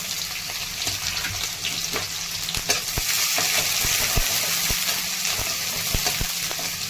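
Cumin, onion and chili frying in oil for Yuppy noodles make a loud, steady sizzle close by, broken by regular clicks and scrapes of stirring.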